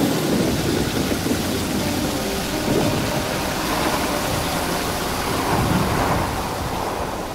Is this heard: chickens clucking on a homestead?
no